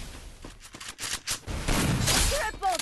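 A headshot gunshot in the battle royale game Free Fire rings out amid a rapid flurry of game gunfire and sharp bursts, loud and close, ending with chiming game sounds.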